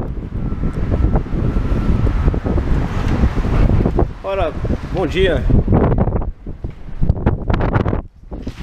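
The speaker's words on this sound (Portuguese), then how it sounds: "Nossa, tá muito vento lá fora" Strong gusty wind roars across the microphone outdoors at a motorcycle parts shop, a steady loud rumble throughout, with a person speaking briefly partway through.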